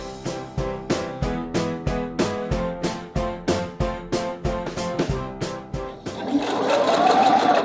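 A sewing machine stitches an invisible zipper into a garment, running in fast, steady, evenly spaced needle strokes up close before stopping, after which a softer rustling hiss of fabric handling follows.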